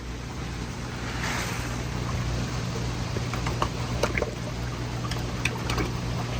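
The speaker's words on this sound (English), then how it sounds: "You can hear the splashing." Tilapia in an aquaponics tank splash at the surface while feeding, producing scattered small sharp splashes over a constant hum of running water and equipment.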